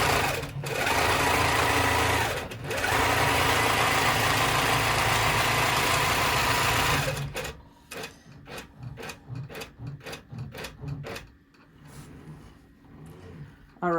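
An embroidery machine sews a placement stitch on fabric, a loud steady whirring hum for about seven seconds with a brief pause, then stopping into a quieter stretch of short intermittent clicks and taps.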